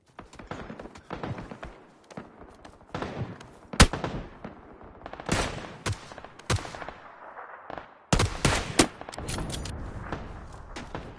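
Gunfire in the PUBG video game, with sharp bursts of shots and heavier cracks scattered irregularly through a noisy stretch of loud, dense game action.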